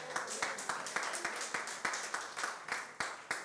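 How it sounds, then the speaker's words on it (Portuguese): A church congregation applauds the Lord at a Sunday morning service, rhythmic clapping in a steady beat with a crowd filling the room. "dá um aplauso ao Senhor."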